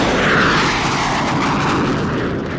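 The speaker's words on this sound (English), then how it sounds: "This is the General Dynamics F-16. It's the first fully electronic jet fighter." A General Dynamics F-16 fighter jet's engine roars in a loud, dense, steady wash of broadband noise that holds with little change throughout and has no voices over it.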